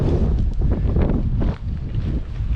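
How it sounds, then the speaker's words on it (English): Strong wind gusting hard down a valley in the Scottish Highlands, a loud, continuous roar buffeting the microphone with rising and falling surges and no speech. "now the wind's just properly kicked up"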